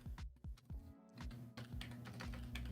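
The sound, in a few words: typing on a computer keyboard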